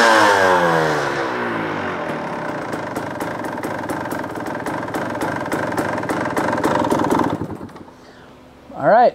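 A dirt bike engine fitted with an XTNG carburetor runs on a very cold morning, idling roughly with uneven pulses, a few blips of throttle, then cutting off abruptly near the end.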